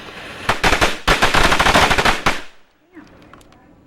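Machine gun return fire in the Future Wars video game: loud, dense bursts of rapid automatic shots run for about two seconds, broken by a short pause, then stop abruptly into quieter ambience.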